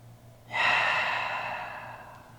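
A single deep exhale during a yoga stretch, a breathy rush of air that starts suddenly, stays close and fairly loud, then slowly fades.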